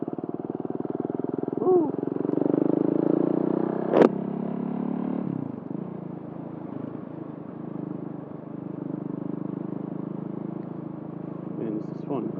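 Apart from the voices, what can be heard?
KTM Duke 690 motorcycle engine riding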